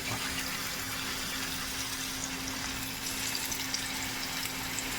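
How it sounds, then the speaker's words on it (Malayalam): Pieces of avoli (pomfret) fish fry in hot coconut oil with a steady, dense sizzle and crackle that holds at an even level throughout, with no voices. "എണ്ണ ചൂടായിട്ടുണ്ട് അതിലേക്ക് നമുക്ക് മീൻ കഷ്ണങ്ങൾ ഇട്ട് കൊടുക്കാം"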